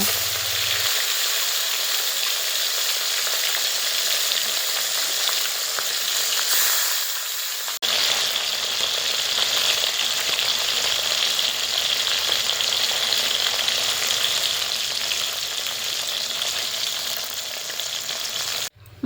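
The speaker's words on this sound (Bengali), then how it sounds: "এই মাছগুলো কিন্তু খুবই নরম এবং সফট, তাই ভালো করে একটু লাল লাল খড়ো করে মাছগুলো একে একে সমস্ত মাছ ভেজে নেব।" Soft bhola fish pieces fry in mustard oil with a loud, continuous close sizzle and crackle that holds steady throughout, briefly dipping before surging again; no speech.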